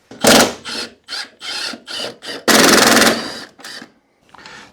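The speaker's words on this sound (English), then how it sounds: "we're going to take these two nuts out there at 11 millimeter." A ratchet works 11 mm nuts off the wiper motor of a Jeep Cherokee XJ in a run of about eight loud, close, clicking bursts separated by brief pauses.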